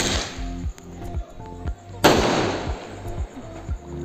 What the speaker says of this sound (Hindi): ये था दोस्तों नंदीज ब्रांड का 2 साउंड क्रैकर